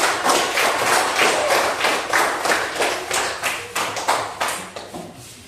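Applause after a group presentation in a teacher-training class in Merauke, a dense burst of clapping that thins toward the end into separate sharp claps.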